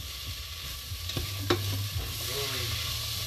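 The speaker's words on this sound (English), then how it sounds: "Let's toss these around and see how brown that pan is getting down there." Mushrooms sizzle steadily in a new pan while being stirred and tossed, with a few scraping knocks from the stirring over the constant frying hiss.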